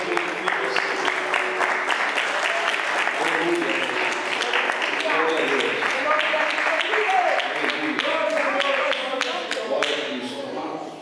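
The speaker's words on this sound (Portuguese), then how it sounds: "E as palmas são para Jesus." A church congregation applauds steadily and densely for the full stretch at a service, while a voice calls out praise over the clapping.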